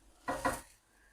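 Breaded chicken panée flipped in a pan, heard as a single brief clink and scrape of a utensil against the cookware, close by and without talking.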